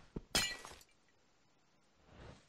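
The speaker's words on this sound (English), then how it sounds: "when it still breaks it into glass shards" In Minecraft, a block of glass breaks into shards with one sharp, bright crash that fades quickly. A softer rustle follows after a pause, with no talking.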